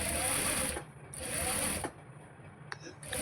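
A sewing machine stitching a churidar front piece runs in two short bursts of steady mechanical whirring, close and moderately loud, separated by a quiet pause with small handling clicks.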